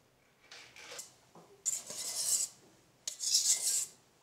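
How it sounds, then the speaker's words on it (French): A utensil works flour into a chocolate batter in a bowl in a few bursts, scraping and stirring against the bowl's sides. Each stroke is close and fairly quiet, with short pauses between them. "J'incorpore ensuite la farine en deux temps."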